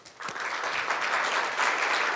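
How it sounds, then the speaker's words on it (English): An audience at a Brookings policy event gives the speakers a warm welcome with a short burst of steady clapping. "let's welcome most speakers with a warm round of applause"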